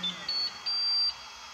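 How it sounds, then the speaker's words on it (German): A Flashforge Adventurer 5M Pro 3D printer's high electronic beeps: one short tone, then two longer sustained tones at slightly different pitches, like a brief jingle over a quiet hum. "Wie viele moderne Drucker singt oder vielmehr piepst der Adventurer uns ein Liedchen."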